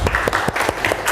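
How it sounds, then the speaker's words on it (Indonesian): A classroom of students claps for a short, brisk burst of applause close by. "Tepuk tangan untuk Mas Rafli."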